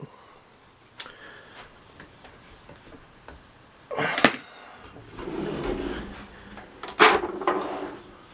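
Solid maple 36-inch storage drawers in a Trampas trailer's craft cabinetry slide open and shut, with two distinct thuds and rolling slides between soft clicks and taps, close by.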